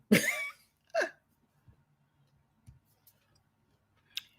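One sharp, breathy sneeze up close, followed by a second smaller burst, then near silence with a few faint clicks.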